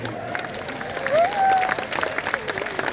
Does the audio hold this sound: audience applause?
yes